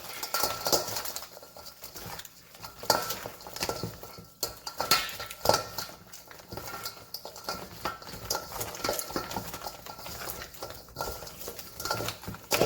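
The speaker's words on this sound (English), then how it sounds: "You want to make sure that you mix it thoroughly so that it's all evenly coated" Dungeness crab tossed with garlic powder in a bowl, with continuous clinking and scraping of utensils against the dish and wet stirring sounds, close and fairly busy throughout.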